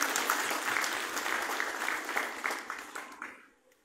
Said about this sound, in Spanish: Se aplauso para Yahome, tus compañeros, tonanas, tutatas